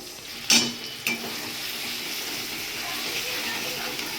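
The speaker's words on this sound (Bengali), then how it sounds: "মশলাটা কিছুক্ষণ কষানোর পর আমি টক দই দিয়ে দিচ্ছি" Sour yogurt going into spice masala frying in a pan for a cauliflower roast, with a couple of sharp sizzling bursts followed by a steady hiss of frying close by.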